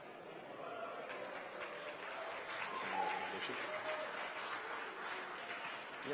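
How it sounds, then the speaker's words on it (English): Distant applause from a crowd during the Inmarsat-5 Flight 4 rocket launch, a steady wash of clapping heard faintly in the background throughout. "You might hear the applause in the background."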